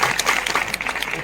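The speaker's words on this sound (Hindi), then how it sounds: "और तालियां तो बजाओ बोलो" Applause at a religious gathering, a short burst of crowd clapping with some voices mixed in, fairly close and busy for its brief length.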